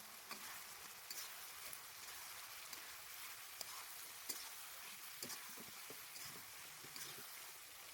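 Chicken with spices sizzles in a pan for Bengali-style chicken kosha while a spatula stirs it, a constant soft crackle broken by light scraping taps, quiet and close.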